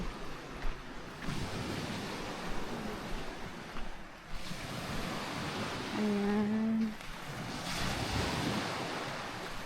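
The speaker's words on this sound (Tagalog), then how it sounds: "So, ito yung dagat." Waves wash onto a rainy, windy beach on the Quezon coast, a continuous roar with wind buffeting the microphone and surges rising and falling; a tonal hum briefly cuts in midway and a voice speaks.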